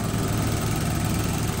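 A 2018 Datsun GO car engine idles steadily just after starting, a continuous low rumble with even vibration and no talking over it.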